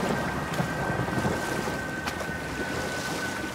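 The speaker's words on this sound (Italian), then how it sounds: "E si sta preparando pure una bella tempesta" Stormy wind in the God of War video game, a steady, dense rush of broadband gusting that roars without letup, with a faint thin whistle running through it and brief louder swells.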